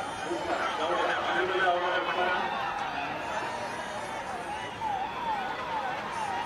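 An ambulance siren wails steadily as the vehicle is cleared a path through a Ganpati immersion procession in Pune. The rising and falling tone carries under continuous crowd noise and a voice talking over it.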